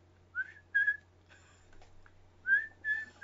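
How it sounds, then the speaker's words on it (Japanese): Someone whistles a short tune alone, a few clear rising and sustained notes in two phrases with a faint hum underneath. "口笛俺上手じゃんね。"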